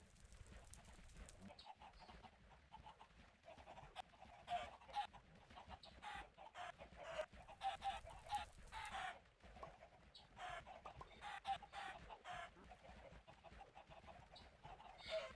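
Chickens cluck steadily in a video game, a dense run of short repeated calls over a busy game soundscape, with occasional louder bursts and no talking.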